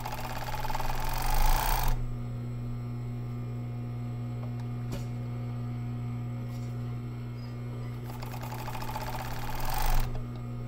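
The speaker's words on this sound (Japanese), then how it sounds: "前後ろ見返しの端をオーバーミシンで縫います。" An overlock sewing machine finishes the edges of front and back dress facings, a steady close mechanical whir over a constant electric hum, with brief louder surges at the start and end.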